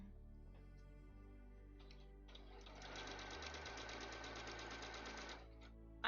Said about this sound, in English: Oh, just sewing straight lines.